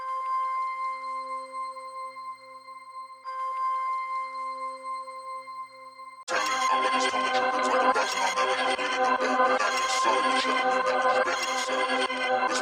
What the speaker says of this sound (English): Next, I just added this bell from Analog Lab.